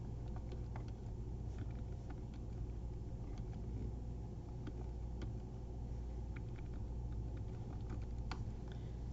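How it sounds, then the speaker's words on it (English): Typing on a computer keyboard while editing a PowerPoint slide: faint, irregular clicks of keys over a low, constant background hum, with no voices. "We're going to type in preventive care."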